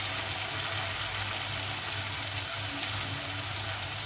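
Chopped garlic is stirred and fried in a hot pan while cooking liver with onions and peppers, a steady close sizzle with soft stirring and no voices.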